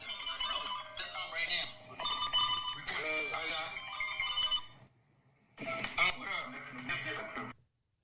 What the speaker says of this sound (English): You got to change the ringtone, though, bro.